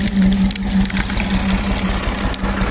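A tractor engine runs close by on a roadside, a steady low throbbing hum with a rough mechanical buzz and no talk.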